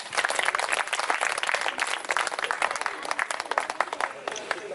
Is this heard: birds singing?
no